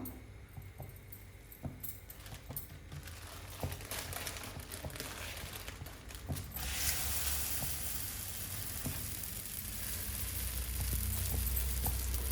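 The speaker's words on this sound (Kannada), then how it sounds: "ತವಾ ಆಲ್ರೆಡಿ ಕಾಯಕ್ಕೆ ಇಟ್ಟೀನಿ, ಸ್ವಲ್ಪ ಎಣ್ಣೆ ಹಾಕೋನು." Oil hits a hot tawa while palak paratha is being cooked, and a soft hiss rises into a steady, bright sizzle that continues to the end, after a few light clinks and taps.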